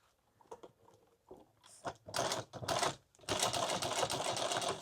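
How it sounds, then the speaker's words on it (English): A sewing machine stitches the corner of a leather pouch, starting with a few halting clicks and short bursts, then running in longer, loud, continuous mechanical runs close up. "Now I'm going to sew this corner to right here where this starts"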